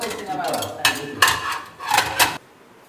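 Plates are set out at home for four people, clattering in several sharp ceramic knocks and scrapes close by, with voices talking underneath.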